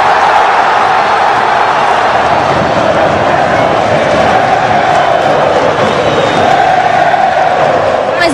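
Loud, sustained roar of a large football stadium crowd cheering a goal, a dense wash of voices that stays at full volume throughout.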